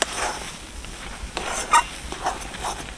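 Semolina and milk powder stirred together in a pan for a carrot sweet, giving soft, faint scraping and rustling with a few brief clinks of the spoon against the metal.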